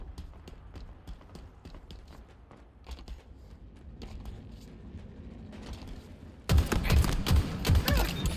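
Rapid gunfire in a ranked Halo match, dense repeated shots crackling through the first six seconds, then a louder burst of explosive blasts and heavy weapon fire near the end.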